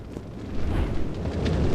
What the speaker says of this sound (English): the bastard just shot a fireball at me